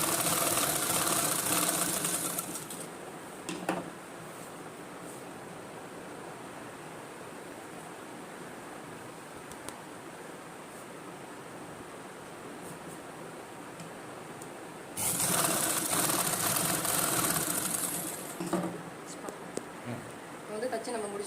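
A sewing machine stitches a government school uniform coat collar in two loud whirring bursts at the start and near the end, separated by a quieter stretch of low background noise.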